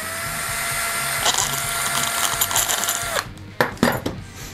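A power driver fitted with a universal spring-pin socket bit drives a screw, a steady close motor whine for about three seconds followed by several sharp clicks and knocks.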